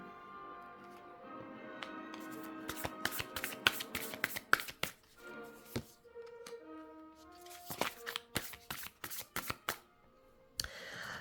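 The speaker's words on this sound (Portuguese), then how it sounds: "Vou tirar mais cartas de Paulina" Tarot cards being shuffled and drawn by hand, heard as crisp close-up riffles, snaps and taps in irregular bursts, busiest in the middle and near the end, with no talking.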